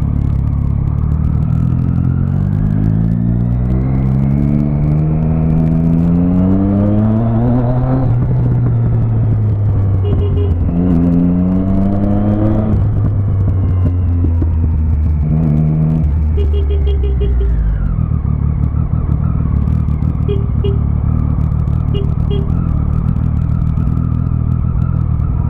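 A BMW car engine runs close by, revving up and down in repeated rising and falling sweeps before settling into a steady, loud idle.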